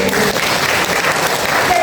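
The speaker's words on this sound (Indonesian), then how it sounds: "Tepuk tangan dulu." Dense applause from the audience at a Christmas celebration in a church hall in Duri, a steady wash of many hands clapping throughout.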